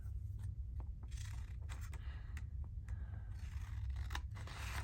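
Paper being cut with scissors at a craft table, a series of close, quiet snipping and rasping strokes in irregular bursts, no voices.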